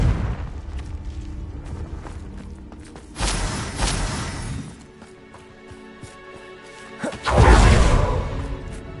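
A Confringo blasting spell explodes in Hogwarts Legacy, with a sharp burst near three seconds and a louder, heavier blast near seven and a half seconds, each trailing off amid background game noise.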